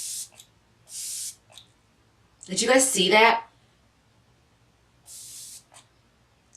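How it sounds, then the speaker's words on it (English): Kat Von D Lock-It setting spray fires three short, airy hissing bursts of light mist, two at the start and one near the end, with a voice speaking briefly between them. "I just want to show you guys like the sprayer."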